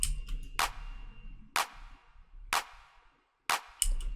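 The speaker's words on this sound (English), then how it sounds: "so just make sure you have a clap" Four sharp clap hits from a deep house drum sound, evenly spaced about a second apart, with a couple of softer ticks between them, dry and close with no voices.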